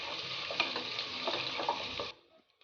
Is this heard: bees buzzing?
no